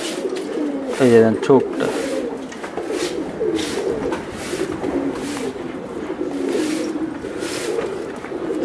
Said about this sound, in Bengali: এই যে দেন, খুবই সুন্দর কবুতর।